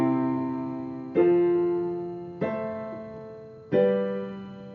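Piano chords in a 1-4-6-5 progression, four sustained chords struck one after another about every 1.3 seconds, each ringing and decaying before the next, played alone with no talking.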